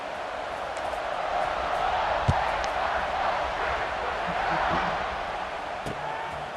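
In the College Football 26 video game, a stadium crowd at kickoff produces a steady, broad roar that swells gently, with a faint thump partway through.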